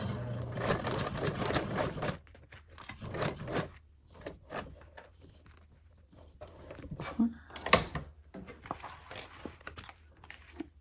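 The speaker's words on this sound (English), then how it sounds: "And I'm going to sew across." A domestic sewing machine stitches across a fabric toiletry bag in a steady close burst for about two seconds, then quieter rubbing and handling noises follow with a few short stitching bursts.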